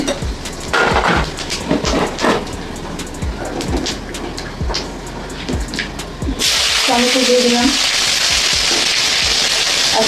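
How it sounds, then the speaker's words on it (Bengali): Whole cumin seeds hit hot oil in a wok midway, turning earlier spatters and crackles into a loud, dense, continuous sizzle; a voice talks throughout the first part. "কড়াই আমি জিরে ফোড়ন দিয়ে দিলাম বন্ধুরা গোটা জিরে"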